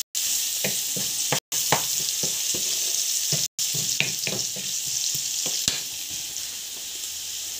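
Vegetables frying in a pan as turmeric is stirred through, a steady close sizzle with repeated scraping stir strokes and two brief dropouts.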